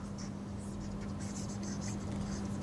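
Chalk or marker scratching on a classroom board during a lesson, a steady soft scraping under a constant low electrical hum, with faint breathy voice traces.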